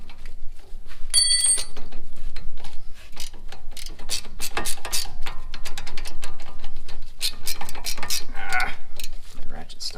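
A ratchet clicks repeatedly while working on the bottom nut of a sway bar link on a 2011 Chevy Equinox, rapid metallic pawl ticks in uneven bursts, close up, with faint background noise.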